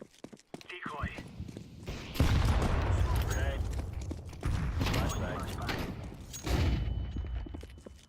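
A decoy grenade in Counter-Strike 2 crackles out fake bursts of gunfire in several loud volleys separated by short gaps, with game noise and occasional voices around it.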